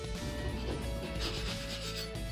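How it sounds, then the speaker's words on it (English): A putty knife scrapes over an office kitchen surface with a continuous close rasping rub, steady and fairly loud. No one speaks. "I'm gonna take the putty knife and just scrape everything as much as I can to make sure it's a smooth surface."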